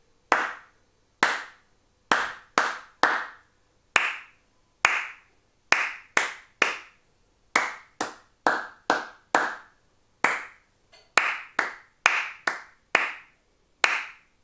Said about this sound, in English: you must clap back in time